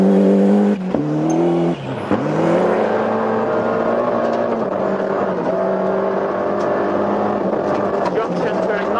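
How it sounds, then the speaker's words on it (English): A Ford Escort Cosworth rally car driven by Malcolm Wilson in the 1994 British Rally Championship drones steadily at a sustained engine pitch with a brief throttle dip, under continuous commentary. "The sun broke through to shine on Malcolm Wilson in the Escort Cosworth."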